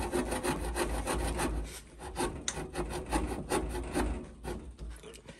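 The small folding saw of a Mikov knife rasps through raw, fairly green spruce wood in quick, regular back-and-forth strokes, close and steady with brief uneven pauses.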